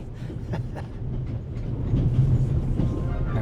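Train rumbling along rails, a steady low rolling drone with faint rhythmic clacks, growing slightly louder toward the end, heard alone without talk.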